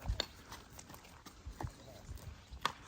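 A spirited mare moves about in a village yard, her hooves giving faint, irregular clip-clops at a distance, with low voices murmuring in the background.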